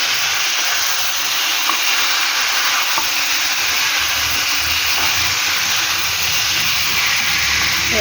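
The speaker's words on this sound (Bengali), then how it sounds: "কটা টমেটো দিয়ে দিলাম এর সাথে, এখানে নাড়াচাড়া করবো" About 600-700 grams of meat cooking with tomatoes in a hot pan gives a steady, loud sizzle and hiss with faint stirring scrapes, continuous throughout with no talk.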